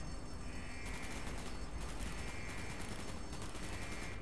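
Gunfire in Call of Duty: Black Ops, a dense, steady wash of rapid shots and battle noise running throughout at moderate level, with no voices.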